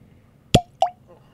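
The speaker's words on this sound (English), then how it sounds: "We got to do a cork pop" A cork-style glass stopper is pulled from a brand-new bottle of Keepers Heart whiskey, giving two sharp, close pops about a quarter second apart, each with a brief glassy ring, in an otherwise quiet room.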